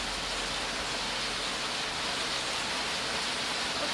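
Steady, even hiss of rain falling nearby, a constant wash of sound with no pauses and nobody speaking.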